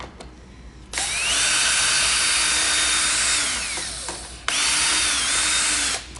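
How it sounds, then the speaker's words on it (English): A power drill backs the polycord screw out of the drive side of an electric RV awning, two loud sustained whirring runs of about three and a half and one and a half seconds, close up, with no talking. "we're going to remove the screw here on the drive side"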